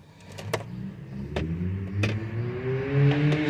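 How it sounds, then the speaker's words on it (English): A loud car drives up the street, its engine rising in pitch as it accelerates nearby over about three seconds, with a few sharp clicks and knocks scattered over the steady engine drone. "This very loud car going up street, as if I need to hear it"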